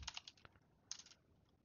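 Typing on a computer keyboard while writing Python code, two short bursts of quick faint key clicks separated by a brief pause.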